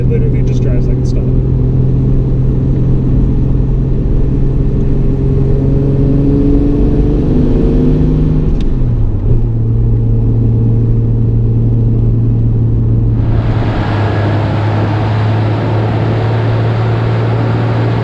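Nissan Skyline R32 GTR with a single-turbo engine making over 500 horsepower, on a new clutch, cruising steadily. A continuous loud engine drone shifts pitch as it changes gear, with talk over it.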